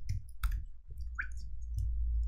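Computer mouse clicks while testing a p5.js program, a few sharp short clicks near the microphone over a low steady hum with no talking.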